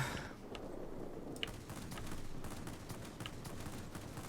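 Aircraft cannons firing in the World of Warplanes video game, flown in a Me 329, heard as a rapid series of sharp bursts stuttering over a continuous engine drone, fairly faint overall.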